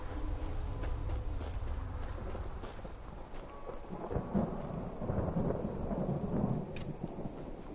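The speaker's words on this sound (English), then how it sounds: "My lightning cloak." Crackling thunder from a lightning cloak spell in Skyrim rumbles steadily with a rain-like hiss throughout, dense and continuous with no voices.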